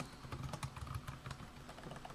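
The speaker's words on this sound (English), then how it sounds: "Bad typing." Rapid typing on a computer keyboard, a steady patter of close, crisp key clicks lasting a couple of seconds with no voices.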